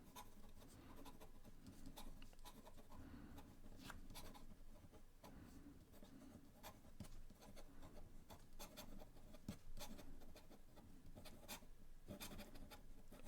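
A Jinhao 599 plastic fountain pen writes quickly on paper, producing soft, close scratchy strokes in quick irregular bursts, quiet and continuous, with no voice.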